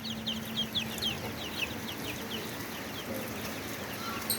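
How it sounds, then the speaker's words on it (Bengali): Sonali breed chicks chirp in a brooder, some of them sick, with high, repeated peeping calls overlapping steadily throughout at moderate closeness and no talking. "সোনালির বাচ্চা এগুলো"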